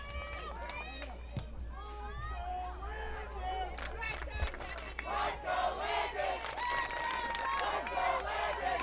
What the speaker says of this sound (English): the Let's Go Landon chants coming from the Dartmouth crowd